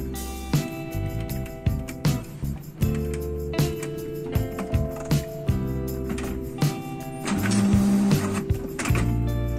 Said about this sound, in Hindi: आप देख सकते हैं प्रिंटर ने इजीली पेपर को पिकअप कर लिया बिल्कुल एक ही चांस में